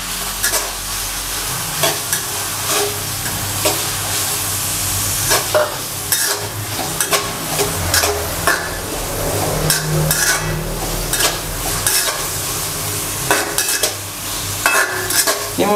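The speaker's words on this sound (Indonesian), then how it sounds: "Margarin dicairin, terus tumis bawang bombay sama bawang putih." Steady sizzling of onion and garlic sautéing in melted margarine in a pan, with a spoon stirring and scraping against the metal in an irregular rhythm throughout.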